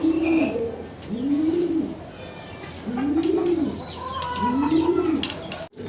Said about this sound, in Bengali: তো এখানে কবুতর সব ঠিকঠাকই আছে।